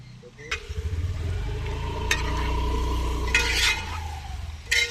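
Chicken roast being stirred with tomato ketchup in a pan, a steady low cooking rumble with a few scraping utensil clicks against the pan, close and moderately loud, with no speech.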